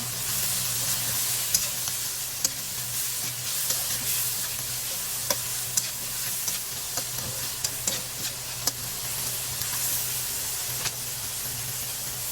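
Chili added to partly cooked meat in a hot pan for a kangkong dish, stirred through with a steady loud sizzle and frying hiss, broken by occasional sharp scrapes of the utensil, with no talk.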